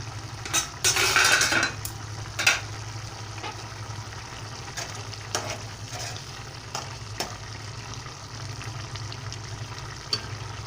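Okra and tomato curry simmering in a covered pan on a home stove, a soft steady sizzle and bubbling under a low hum, with a burst of louder frying and a few utensil clinks near the start.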